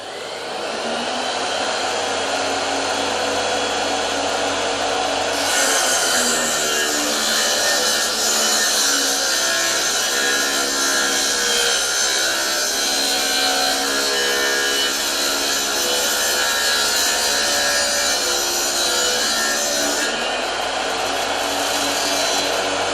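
A homemade power feeder pushes a wooden board through a cutting blade in a woodworking shop, giving a steady loud whirring drone that rises into a harsher sawing tone partway through and settles back near the end.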